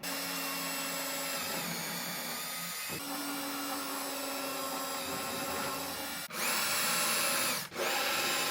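A power drill boring pilot holes for the screws of a router lift in a router table, whining steadily at high speed before two brief, louder bursts near the end, close and with no talk.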